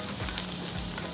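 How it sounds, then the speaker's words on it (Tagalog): Garlic sautés in a pan for a sweet and sour pork dish, giving a brief, steady, close sizzle with light crackle and no talk. "magigisa na tayo ng ating bawang"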